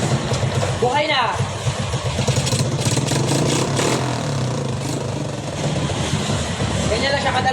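A Honda Wave Alpha 100 motorcycle engine runs steadily just after starting, a close, continuous low idle with brief revving swells, while people talk over it.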